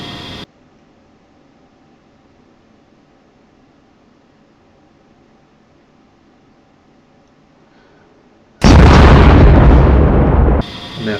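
An A-10C's weapons release in the DCS flight game ends in a loud, close, sustained roaring blast lasting about two seconds after a long quiet stretch, then cuts off abruptly.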